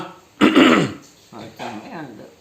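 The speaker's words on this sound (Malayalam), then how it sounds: "ചുമ ചുമ" A close, rough throat-clearing cough bursts out once, followed by a couple of smaller hacking coughs.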